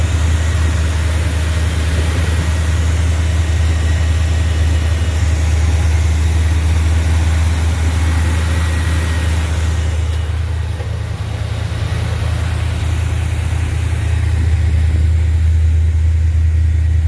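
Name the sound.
C3 Corvette engine idling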